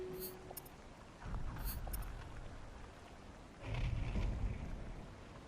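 Rain and rumbling thunder from a storm in the video game The Cycle: Frontier, a hissing wash of rain with two heavy low rolls of thunder swelling in, fairly faint overall.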